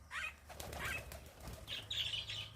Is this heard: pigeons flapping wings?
yes